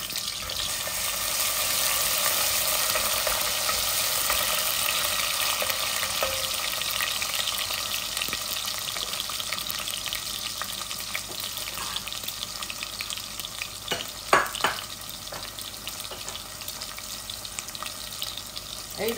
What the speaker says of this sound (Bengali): রসুন দিব আর পেঁয়াজ দিব আর হলুদ,